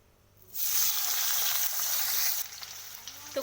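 Chopped onions and green chillies hit hot oil in a pan, setting off a sudden loud sizzle that holds steady for about two seconds, then eases into a lighter crackle.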